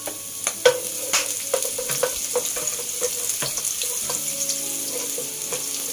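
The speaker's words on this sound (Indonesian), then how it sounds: "Bila minyak dah panas, kita tumiskan bawang putih." Garlic sautés in hot oil for spaghetti aglio olio, a close steady sizzle punctuated by sharp clicks and scrapes of a spatula stirring in the pan, with no talking.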